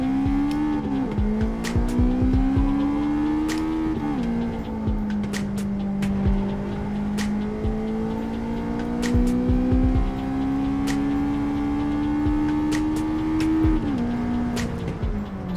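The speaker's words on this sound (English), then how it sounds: "It makes a proper noise, this car, too." Gran Turismo 7 race car engine roaring loudly and steadily, pitch rising and falling with gear changes and a brief dip near the end, with faint tire noise and clicks alongside.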